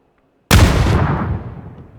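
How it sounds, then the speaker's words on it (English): A grenade explodes in the battle-royale game PUBG with a sudden loud, close blast that cuts in from silence and leaves a long rumbling tail fading over about a second and a half. "That was a good nade from Jeppe."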